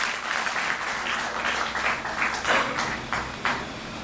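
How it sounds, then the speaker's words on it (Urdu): Applause greets Mohammad Afzal as he is welcomed to speak at a public assembly at Jammu Club in Jammu, a steady wash of hand claps lasting the whole moment with no talk over it. "تالیوں سے سواگت کریں محمد افضال جی"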